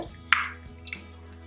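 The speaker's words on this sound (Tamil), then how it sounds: "இப்போ பார்த்தீங்கன்னா குக்கரில் ப்ரெஷர் ரிலீஸ் ஆயிடுச்சு. ஓப்பன் பண்ணி பார்க்கலாம்." A pressure cooker lid being opened after the pressure is released, with mutton pieces cooked inside, giving a sharp metallic clink followed by a softer second clatter, close and fairly quiet.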